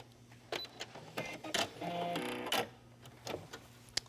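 A sewing machine stitches a quilted tablet cover backed with fusible foam, running in short whirring bursts between clicks and quiet pauses, faint and close.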